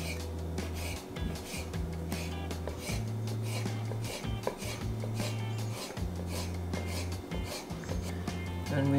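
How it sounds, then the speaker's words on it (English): A knife slices raw squid into strips on a cutting board, giving a string of close, crisp cutting strokes in an even rhythm over a low background hum. "So cut one, two, and then cut these into strips."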